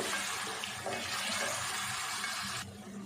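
Water being poured into a cooking pan holding a cup of chopped onions, a steady rushing, splashing pour that continues for a few seconds before tapering off abruptly, with no talk.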